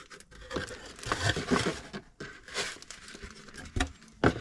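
Plastic packaging from a Tamiya TT-02B RC car kit is crinkled, torn and pulled away from the parts, giving irregular bursts of crackling rustle close to the microphone, with no talking.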